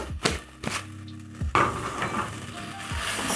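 Osso buco with bay leaf sizzling in a pan while being stirred, several sharp scraping knocks of the utensil against the pan over a steady soft frying hiss, close and fairly quiet.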